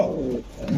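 Pigeons offered for sale, including fancy breeds, give a brief low, throaty coo close by, a single short burst lasting under a second.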